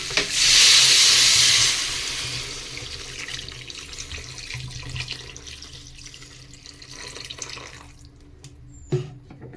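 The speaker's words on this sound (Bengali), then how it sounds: "তো আমি এবার জলটা দিয়ে দেবো" Water poured into a pan of vegetables for a thin rohu fish curry, a loud splashing gush at the start that fades into softer bubbling and simmering, with a brief clank near the end.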